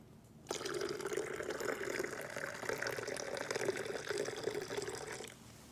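Soda being poured into a cup during a Kangen water demonstration, a steady fizzing splash and trickle that begins abruptly and runs for about five seconds before stopping.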